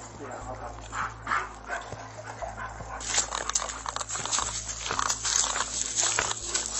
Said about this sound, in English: The police dog leads officers to a nearby shed where they find the suspect.